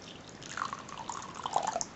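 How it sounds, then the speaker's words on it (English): Water is poured into a tarantula's small water dish in a warm bedroom, a quiet, close trickle with faint dripping and splashing, heard alone. "I'm going to top up her water, which has evaporated in the last day because it is very warm."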